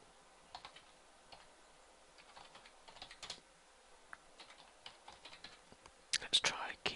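Soft, close computer keyboard typing clicks along in irregular bursts, quiet and unhurried, ending in a few louder taps.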